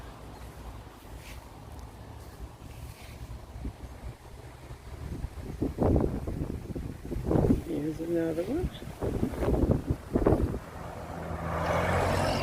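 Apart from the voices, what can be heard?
wind blowing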